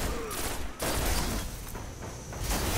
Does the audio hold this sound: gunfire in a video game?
yes